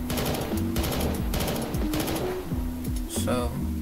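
Rapid gunfire from a Roblox video game rattles in quick bursts over a layered game soundtrack with a talking voice, fairly faint overall.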